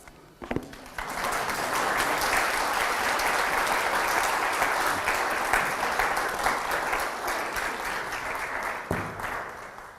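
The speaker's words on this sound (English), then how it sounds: "Okay, clap." Audience applauding at the close of a talk, a sharp tap and then a sustained, even roar of many hands clapping that holds for several seconds before thinning out with a final knock.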